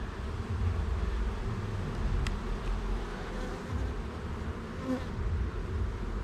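Honeybees buzz steadily around beehives during a hive inspection, a continuous dense hum of many insects close by, with no talk.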